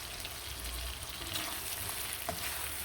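Pointed gourd sizzles steadily in a pan with red chilli powder, coriander powder, turmeric and salt, a close, continuous fry with a faint stir or clink near the end and no talking.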